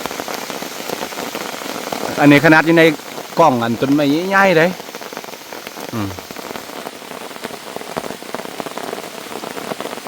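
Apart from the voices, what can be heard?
rain falling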